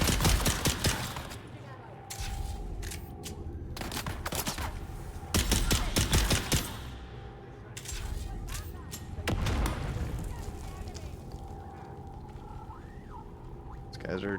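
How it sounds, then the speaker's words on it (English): Close-range gunfire in the video game Dune Awakening: sharp bursts of shots in several clusters over a steady game soundscape with a low rumble, loud and near, with no talk. "Shoot close range here."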